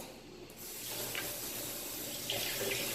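Cucumbers and tomatoes are rinsed under a running kitchen tap: a soft, steady stream of water splashes into the sink at low volume, with faint shifts as the vegetables move through the flow.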